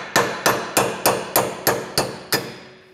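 Wheel studs hammered out of a hub on an old Cobra Mustang: eight sharp metallic strikes at a steady, even pace, each ringing briefly, loud and close with no talk.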